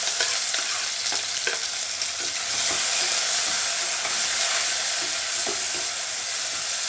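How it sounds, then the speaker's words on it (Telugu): Small chopped onion pieces frying in a pan, a bright continuous sizzle with occasional light taps of stirring, close and loud, steady throughout with no one speaking. "ఉల్లిపాయ ముక్కలండి చిన్న చిన్నగా కట్ చేసుకున్నాను ఇందులో వేసేస్తున్నాను"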